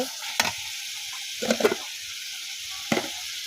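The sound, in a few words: cauliflower stalks and potatoes added to frying spice paste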